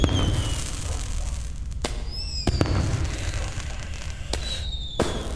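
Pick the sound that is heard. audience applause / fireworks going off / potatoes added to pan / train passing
fireworks going off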